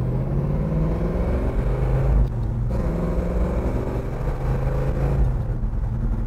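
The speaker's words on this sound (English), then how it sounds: "Don't you just love the exhaust on a big block?" Dual exhaust of a 1968 Chevrolet Chevelle SS with a big-block engine, giving a steady, loud, low rumble as it drives along, with a brief dip in the throttle midway.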